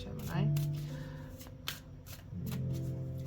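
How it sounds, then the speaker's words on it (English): Tarot cards are shuffled by hand, with crisp riffling and shuffling bursts that come in close, repeated rushes, while a person talks over the sound. "Now that I shuffled them, they're not flying out as much."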